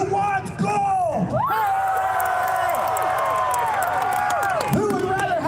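Crowd at a Renaissance faire joust cheering and whooping, many voices rising in a loud, sustained wave of shouts and yells, with people talking in between.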